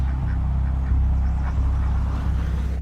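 A few geese standing in a road honk and quack faintly over the loud low rumble of a passing car's engine, with the sound playing back from another recording.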